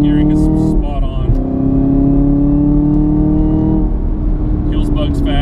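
A 2018 Chevrolet Camaro ZL1 1LE's supercharged V8 engine revs and accelerates with a deep, steady rising drone, close and loud, with a voice talking over it.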